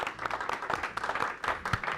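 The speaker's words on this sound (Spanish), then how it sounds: "Señores, un aplauso a Darían." Short burst of applause for a guest at the end of a talk-show-style conversation, uneven clapping from a small group, close and moderately loud.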